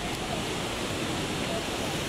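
Antong Falls waterfall gives a continuous, dense roar of rushing water, loud and close, with no break.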